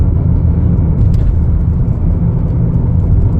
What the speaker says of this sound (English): Has a lot of pickup, goes really quick, going 45 now.